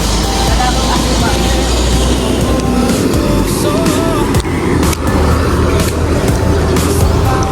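A tricycle engine runs steadily while driving, a loud continuous low rumble with road noise and rattling, close and unbroken throughout with occasional brief dips.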